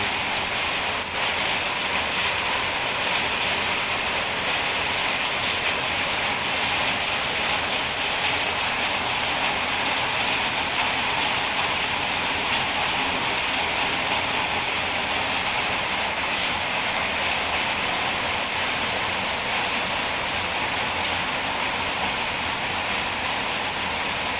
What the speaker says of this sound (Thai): เป็นบรรยากาศหน้าบ้านนะครับ ฝนตก ประมาณนี้นะครับ ที่เชียงใหม่นะครับ